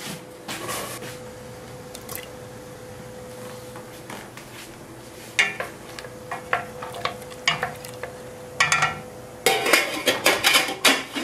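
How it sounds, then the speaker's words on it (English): Potatoes tumble into a pot for a mashed pumpkin purée, a burst of clattering knocks and soft thuds near the end, after scattered clinks and scrapes of kitchen utensils over a faint steady hum. "And we're going to add our potatoes."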